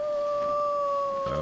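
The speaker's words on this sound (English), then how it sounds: "I hear a wolf howling." A single long, steady wolf howl in the survival video game The Long Dark, a clear sustained tone holding for over a second before a brief rustle at the end.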